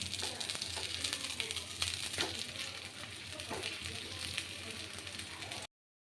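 Aloo paratha fries in refined oil on a pan, giving a soft, steady sizzle and crackle that continues throughout before cutting off at the end.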